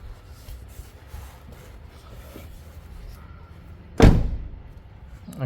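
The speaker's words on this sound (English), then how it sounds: "try closing the door" A car door swings shut with a single solid thud after several seconds of quiet background, the closing heard close and alone.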